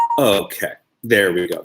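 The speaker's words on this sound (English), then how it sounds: "That's the sound of the text message of the people asking me about the chat." A brief chime from a text-message notification sounds right at the start, then a person speaks over the quiet that follows.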